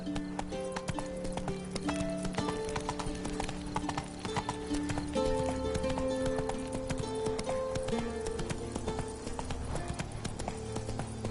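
Horse hooves galloping in the video game Witcher 3, a fast continuous clip-clop rhythm running under steady background music.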